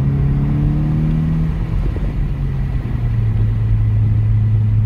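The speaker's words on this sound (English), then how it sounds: "that sound, if it's translating into the phone, is all intake" A 2019 Mazda 3 with a Corksport high-flow intake pulls through acceleration with a deep rising drone and intake whoosh, sustained and close, fading slightly then building again.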